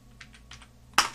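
Light taps on a computer keyboard in a home studio, a few soft clicks followed by one sharper keystroke at the end, close and quiet with no speech.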